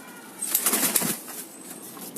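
A brief burst of flapping wings, several pigeons taking off close by, fluttering for about a second before fading.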